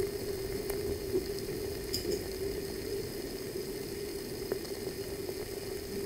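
Ground shells in a 10% acetic acid solution fizz with a steady, faint sizzle, a continuous soft crackle of bubbles with a few tiny pops, heard alone.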